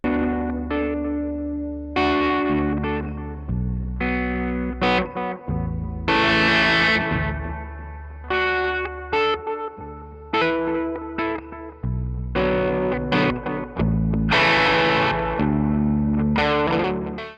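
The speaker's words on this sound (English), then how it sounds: "it transposes my guitar to baritone tuning" A heavily distorted electric guitar, transposed to baritone tuning by a Quad Cortex, plays low, chunky riffs and sustained chords with effects, tones sitting deeper than a standard guitar.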